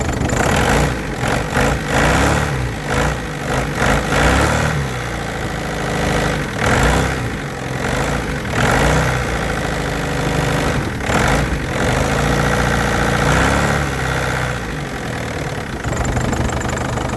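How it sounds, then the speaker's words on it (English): A Mk5 Ford Transit van engine idles loud and close, a rough, knocking rumble with uneven pulses that runs steadily throughout with no voices. "and it's starting up. Good old banana engine down there"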